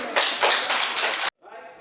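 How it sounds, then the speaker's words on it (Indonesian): A classroom bursts into applause for a student group, dense clapping from many hands for about a second, then cut off abruptly into near silence. "Tepuk tangan untuk kelompok 1 dulu"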